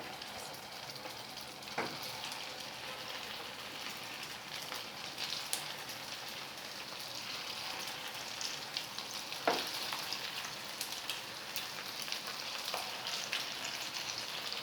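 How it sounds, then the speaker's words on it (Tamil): Rice flakes (aval) cutlets deep frying in hot oil over medium flame, a continuous close bubbling sizzle with occasional sharper pops and crackles throughout. "மிதமான தீயில் ஒன்று ஒன்றா போட்டு பொரித்து எடுத்துடலாம்."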